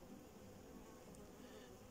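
Honeybees buzz steadily around their hives in spring while bringing in pollen. The dense, even hum of many insects carries on without a break, and no one speaks.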